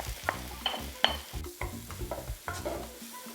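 Red peppers and courgettes sizzle in a one-pan vegan meal, stirred with repeated scraping clatters against the pan over a soft frying hiss, close and moderately quiet.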